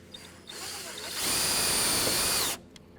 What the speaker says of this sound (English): I'm gonna put a couple self-tapping screws in there to secure it in place